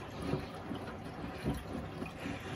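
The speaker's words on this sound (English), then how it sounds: "now it's getting water by herself." A washing machine draws in water on its own, a low, continuous rush and trickle with soft surges recurring every half second or so, quiet and without voices.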